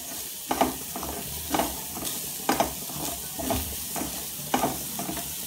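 Sugar being stirred in a hot pan makes a soft, steady sizzle, broken by a regular series of scraping strokes about once a second, with no talking.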